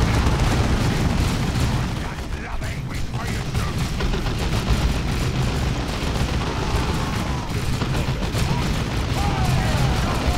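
Battle noise in Dawn of War 2 as a grenade goes off, with dense booming blasts and rattling gunfire continuing loud throughout, and voices mixed into the clamour.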